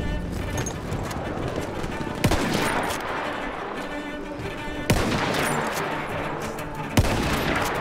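Battlefield 1 gunfire in a Classic Conquest match: a busy wash of battle noise with three sharp loud cracks spaced a few seconds apart, over continuous background combat.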